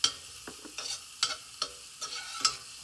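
Chopped green chilies fry in hot ghee in a pan, a soft steady sizzle broken by several sharp scraping stirs, close and moderately quiet, with no talking.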